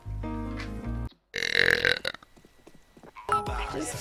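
A woman on a live stream lets out a series of burps: a long low resonant belch, then a brief gap and a harsher, noisier one, followed by another short burp near the end, all close and loud.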